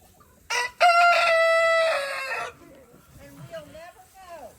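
A rooster crows once, a loud drawn-out call close by at a farm animal sanctuary, followed by softer clucking and low chatter from the birds.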